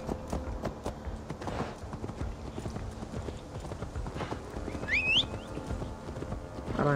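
Steady clip-clop of horse hooves on a hard road in Assassin's Creed Valhalla, continuous and fairly close, with a brief whinny-like squeal partway through and a busy game-like background.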